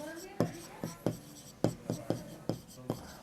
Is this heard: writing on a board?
yes